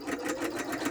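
A sewing machine at a craft desk runs steadily, its needle beating in a fast, even rhythmic chatter close to the listener with no pauses.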